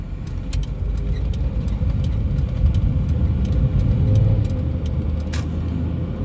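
A 1997 Honda Orthia with a custom-order B18B engine creeps through bumper-to-bumper traffic, giving a steady low cabin rumble and engine drone with faint road noise and a few light clicks, and no talking.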